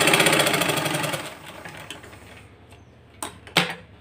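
A sewing machine stitches folded blouse lining in a rapid mechanical whir that slows and fades, followed by a couple of sharp clicks as it stops.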